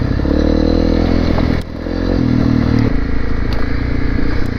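A Honda CRF250L Rally dual sport motorcycle rides off-road over rocky trail, its engine droning loudly and close with rattling and scraping, one brief dip in throttle, then a steady pull again.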